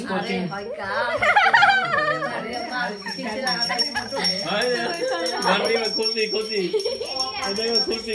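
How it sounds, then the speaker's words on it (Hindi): A bell rings repeatedly amid overlapping voices and background chatter, its bright tone steady throughout. "ये खुशी से घंटी बजा रहा है"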